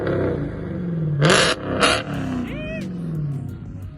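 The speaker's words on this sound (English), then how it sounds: "Let us get a little quick rev real quick." A Dodge Challenger Hellcat engine revs in short quick blips, rising and falling twice with a deep throaty roar, with people talking over it.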